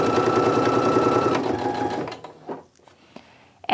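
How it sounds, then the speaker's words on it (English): A sewing machine stitches quilt block pieces in a fast, steady mechanical patter for about two seconds, then stops, leaving quiet handling noises and faint clicks. "And we're just going to grab the next bit and sew those together as well."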